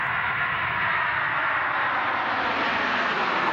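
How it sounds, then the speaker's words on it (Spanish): An airplane taking off, its engine a steady, loud broadband roar that holds unbroken throughout with no voices. "Subes al avión y este despega."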